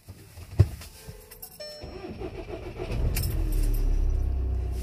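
A car engine starts by itself after a jangle of keys and a few clunks, then settles into a steady low idle that builds and holds close by, with no talk.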